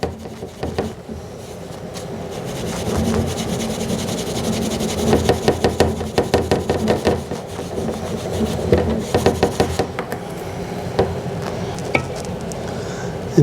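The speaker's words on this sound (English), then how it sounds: "go ahead and get your SOS pad or Brillo pad" Steady abrasive scrubbing of a cast-iron Dutch oven with a steel wool SOS or Brillo pad, close and continuous with rhythmic rasping strokes that grow more pronounced in the middle stretch.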